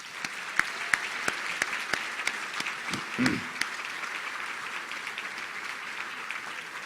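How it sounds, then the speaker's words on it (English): A banquet crowd at an annual state supreme court historical society dinner applauds honored justices, producing a full, continuous wash of clapping with a few sharper near claps and a brief voice partway through. "Let's give them a round of applause."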